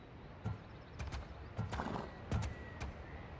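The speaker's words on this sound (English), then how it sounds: "The horse is going to Adonis." A horse in the Assassin's Creed Odyssey video game clip-clops at a slow walk, the hoof falls faint and irregular, with a few sharp taps standing out against quiet background ambience.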